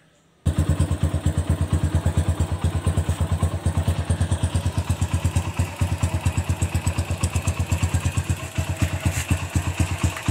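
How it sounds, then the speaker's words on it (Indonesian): A custom motorcycle engine starts abruptly and then idles close by, a loud, fast, even chain of exhaust pulses that keeps running to the end. "Langsung saja kita hidupkan mesin"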